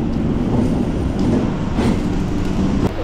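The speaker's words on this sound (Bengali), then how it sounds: "আজকের আমাদের ট্রেন কল্যাণী সীমান্ত লোকাল প্ল্যাটফর্মে ঢুকলো" A Kalyani Simanta local commuter train rumbles in close by as it pulls into the platform, a loud low roar with metallic rattling and squealing throughout, no speech.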